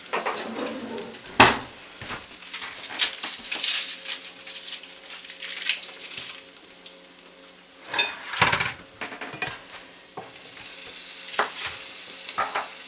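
Bacon sizzling in a frying pan, a steady close hiss broken by repeated scraping and stirring clatter from a utensil against the pan.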